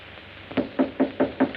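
Five evenly spaced knocks on a wooden door, close and firm, after a quiet moment, with no one speaking.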